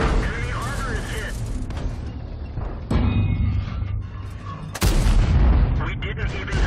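Tank cannon shots and heavy booms from the World of Tanks game, with sharp loud blasts near 3 and 4.8 seconds over a continuous rumbling battle backdrop, with a voice talking through much of it.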